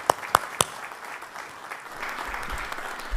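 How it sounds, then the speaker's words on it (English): A few sharp, close claps open, then steady applause for a symposium panel follows in a large hall, moderately loud with no talking over it. "Once more, a round of applause for these panelists."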